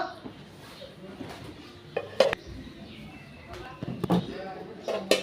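Plates are handled while people sit down to a home meal of roti and bhaji: a few sharp clinks and knocks of crockery over faint room noise, with people talking nearby.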